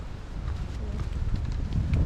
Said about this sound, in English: it's a little bit windy, So it's breezy.